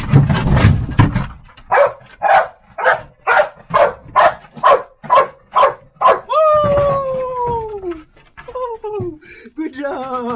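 A search and rescue dog barks at a hidden rescuer during firefighter training in Taiwan. A rapid, even run of about a dozen loud, close barks is followed by long rising and falling vocal cries.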